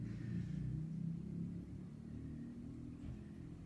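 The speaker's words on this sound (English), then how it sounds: "Some noisy motorbike." A low, noisy motorbike engine rumble drones in the distance, faint and steady as it passes by.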